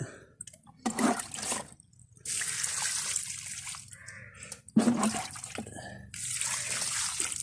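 Liquid is poured from a container onto planted elephant foot yam in a garden bed, heard as two splashing, trickling bursts separated by brief pauses, close and fairly quiet.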